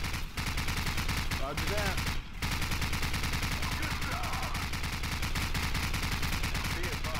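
Rapid automatic gunfire in the Call of Duty 4: Modern Warfare shooter game rattles almost continuously, dense bursts with a short pause midway, while a voice briefly speaks over it.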